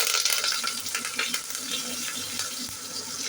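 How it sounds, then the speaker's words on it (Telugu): Mustard seeds, cumin, black pepper and curry leaves frying in hot oil and ghee, a steady bright sizzle with small crackles and pops running throughout, close and fairly loud. "నూనె కాగిన తర్వాత ఆవాలు, జీలకర్ర, మిరియాలు, కరివేపాకు,"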